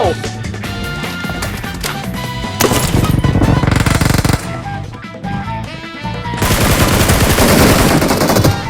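Rapid bursts of automatic gunfire from a PUBG match played on an iPhone XR, loud and dense, with game music and effects layered throughout and heavier firing toward the end.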